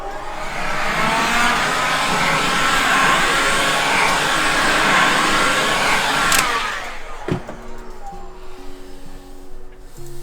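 A heat gun blows a steady, loud, close whooshing roar over a motorcycle sticker decal on a 2020 Husqvarna 701, then cuts off sharply with a click, leaving a quieter background hum.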